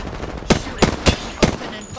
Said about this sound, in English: Whoa, why are they shooting me?